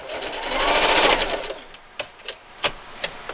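Sewing machine stitching binding on a quilted table runner, a short close burst of rapid whirring stitching that stops, followed by a few sharp clicks and taps.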